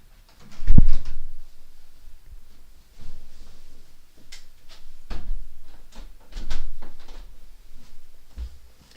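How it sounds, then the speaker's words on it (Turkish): An indoor door is pushed shut with a solid thump near the start, followed by scattered knocks, shuffles and handling noises close by, with no talking. "Bir saniye bekleyin kapıyı kapatayım"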